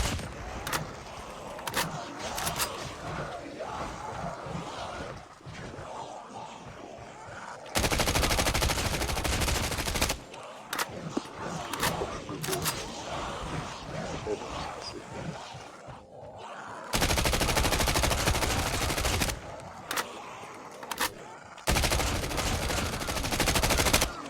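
Zombies gunned down in the video game COD Mobile, with loud bursts of automatic fire in several long sustained volleys between stretches of quieter game noise and scattered single shots.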